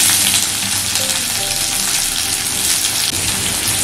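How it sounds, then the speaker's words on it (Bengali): Chopped onion frying in hot oil with whole tempering spices for a ridge gourd dish, a steady dense sizzle that stays loud and close throughout with no talking. "এখন কুচানো পেঁয়াজটাকেও 1 মিনিটের মতন ভেজে নিতে হবে।"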